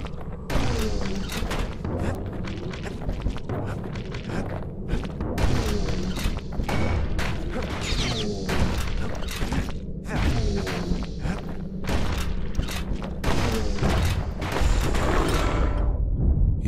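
Turrets blowing up in the video game Bastion, a dense barrage of booms, thuds and crackling blasts with whooshing debris, loud and continuous, layered with game music and effects.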